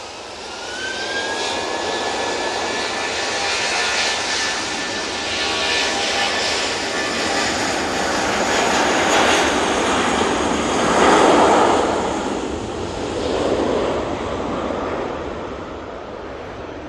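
A Lufthansa jet taking off from Manchester Airport with a turn and burn, a loud, steady engine roar and rumble sustained throughout, swelling slightly toward the middle as the aircraft climbs away.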